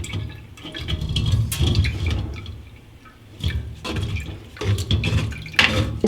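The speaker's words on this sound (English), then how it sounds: "Strain this last little bit." Mixed berry iced tea is strained through a strainer, the liquid pouring and splashing in uneven bursts with brief pauses and drips, close and moderately loud, with no talking.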